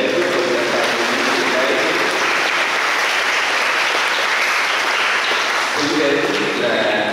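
Church congregation at Tân Định parish applauding during a Knights promotion and Bao Đồng promise ceremony, a steady, dense wash of clapping that lasts throughout, with a spoken voice faintly audible beneath it.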